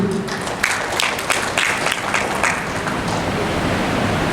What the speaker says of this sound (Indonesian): Tepuk tangan kita untuk Ibu.